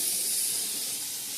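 Rice boiling over in a pot on a home stove, giving a steady, close hiss of escaping steam that holds level for the whole moment, with no talk.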